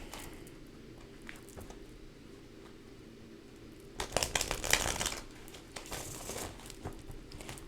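Tarot cards shuffled by hand, a soft rustling that grows busier and louder midway through with a burst of riffling, then settles into lighter flicks.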